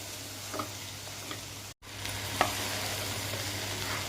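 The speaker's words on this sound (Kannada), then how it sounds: "ಈಗ ಮಸಾಲೆ ಇಷ್ಟು ಫ್ರೈ ಆದರೆ ಸಾಕು." Masala for fish sambar fries quietly in a pan, a soft, even sizzle with a few faint stirring taps and a brief dropout partway through.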